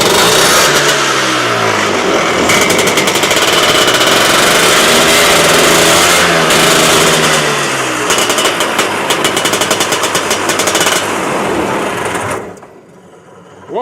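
Lotus Elan engine running loud and close on a stand, a busy rapid mechanical chatter with uneven revving that carries steadily for about twelve seconds before cutting out abruptly near the end.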